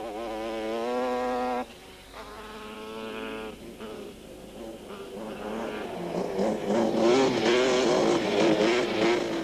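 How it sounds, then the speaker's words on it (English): Quad bikes race at speed on a sandy track in the 1997 Toyota 1000, including a Yamaha Banshee. High, buzzing two-stroke engines pass close, first one steady drone, then several overlapping engines rising and shifting in pitch. "the competitors had to really hang in there to keep their quads under control at speed"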